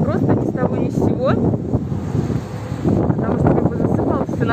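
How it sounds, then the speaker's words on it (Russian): Strong wind buffets the microphone with a steady roaring rush throughout, while someone talks over it. "Ой, ветер такой."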